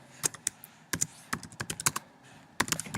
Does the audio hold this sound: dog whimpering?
no